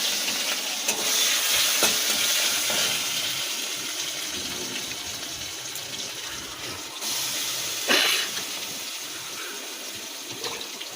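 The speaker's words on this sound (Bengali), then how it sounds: "এ দেখো এখানে মশলা সাতলাচ্ছি" Spices sautéing in hot oil make a dense, steady sizzle close by that fades slightly midway, with a couple of sharp utensil knocks and a brief surge near the end.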